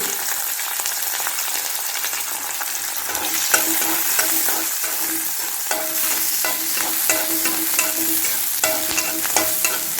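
Steady oil sizzle as shallots, garlic and ginger fry in a pan, with occasional scrapes of a spoon stirring, close and continuous without any talking.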